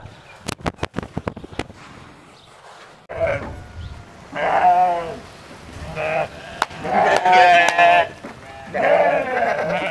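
Several sheep and lambs bleat in a row, wavering calls overlapping one another after a few sharp clicks at the start, with a farm-like background.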